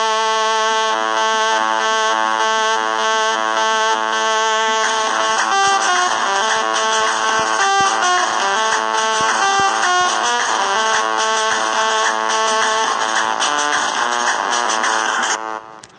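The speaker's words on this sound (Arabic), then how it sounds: "أول شيء هذا الصوت مال المعزوفة مال باخرة، طبعا ضفت هذا الصوت كلش حلو." A ship-horn style sound from an Iraqi music keyboard set, a loud sustained buzzing tone with layered harmonics that holds for about sixteen seconds before cutting off abruptly, with no voices.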